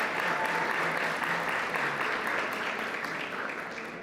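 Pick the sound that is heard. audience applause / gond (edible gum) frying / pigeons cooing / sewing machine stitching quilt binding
audience applause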